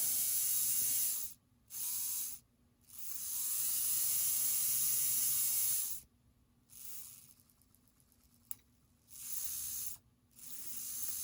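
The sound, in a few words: rewound old Athearn model train motor running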